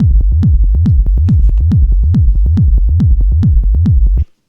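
Techno bassline from a Korg Electribe EMX-1 built on a sine wave, repeating about ten close, loud pulses in a steady rhythm, each throbbing tone sweeping downward with a short click at its attack, ending abruptly.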